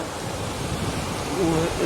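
A steady, powerful roar of the Narmada river's strong current fills the scene, with a brief voice rising over the flow near the end.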